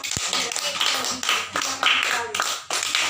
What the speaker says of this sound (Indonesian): Silakan, mari kita berikan aplaus kepada